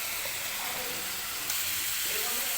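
Paneer cubes frying in oil in a pan, a loud, dense, continuous sizzling hiss that fills the whole clip up close, with no talking.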